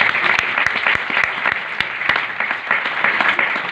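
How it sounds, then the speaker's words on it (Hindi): Church congregation gives loud, sustained applause, dense clapping throughout with a few sharp individual claps standing out, fairly close and without talk. "खुदा के जलाल के लिए जोरदार तालियां हैं।"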